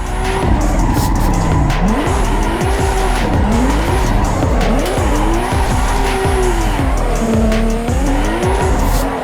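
Tires squeal continuously as a car drifts through long slides in the racing game Assetto Corsa EVO on the Nordschleife, loud wavering screeches over a constant engine roar with no pauses.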